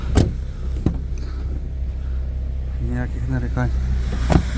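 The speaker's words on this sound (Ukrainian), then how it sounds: "Заведений двигун. Він працює, бачите, чисто рівно." A used 2005 Volkswagen Polo with a 1.2-litre petrol engine idles with a steady, even low hum, while someone talks over it and a couple of faint clicks and knocks sound near the start and end.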